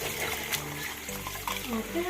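Water runs from a tap over washed rice in a kitchen to soak it for vegetable fried rice, a soft, fairly quiet splashing and trickle heard beneath a person talking.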